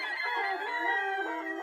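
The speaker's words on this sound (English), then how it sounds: "God, that creepy ass chicken moose thing." A Minecraft chicken from the TerraFirmaCraft mod clucks in a steady, tonal run of calls for under two seconds, close and fairly loud, with no talk over it.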